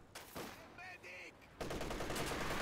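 An MG34 machine gun in the Company of Heroes 2 video game fires a sustained burst that swells loudly near the end, mixed with other clipped battle effects and short tonal game sounds.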